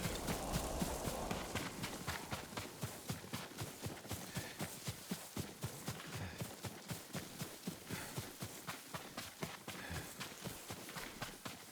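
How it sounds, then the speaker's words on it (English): Hooves of a horse in the video game Ghost of Tsushima pound in a steady, rapid rhythm, loud and close throughout, with a faint background bed of wind-like ambience and no talk. "Yuriko's horse. She can't be far."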